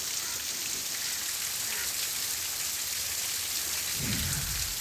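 Heavy rain pouring onto Mumbai streets, a dense, steady hiss of downpour filling the scene with a low rumble swelling near the end.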